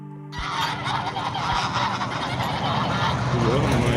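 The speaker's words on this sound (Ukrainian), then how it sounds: "Це батл між гусями, ми прям між ними." A flock of geese on a village road honking loudly and continuously, many overlapping calls close by, filling the whole stretch.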